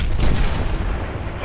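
A grenade blast in Gears of War, a loud, dense rumbling boom that fills the whole moment and holds strong without fading.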